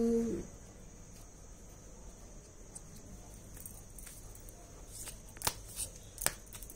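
Tarot cards are shuffled softly close by, making a quiet riffling rustle with a few sharper card snaps toward the end, after a brief bit of voice at the very start.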